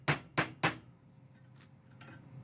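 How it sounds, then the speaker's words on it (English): Three sharp, ringing hammer blows in quick succession on a steel hook bent around a blacksmith's jig, close and loud, followed by a quieter tail of faint knocks. "get a hammer just to finish it off"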